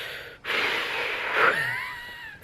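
Loud, breathy exhalations during a child's dragon breathing exercise, one long rushing breath with a wheezy, rasping edge, close to the microphone.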